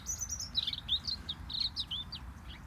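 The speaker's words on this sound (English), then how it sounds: "There seem to be more birds than donkeys." Birds sing in a tree at the Wroxall donkey sanctuary on the Isle of Wight, a rapid run of high twittering chirps over a soft outdoor hum, close and clear.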